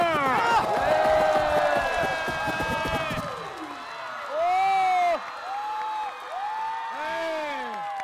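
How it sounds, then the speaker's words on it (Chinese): A crowd cheering and whooping at a street dance battle on a Chinese dance competition show, loud and sustained at first, then thinning out into scattered shouts and calls. "再给这一场 battle 更大的欢呼声。"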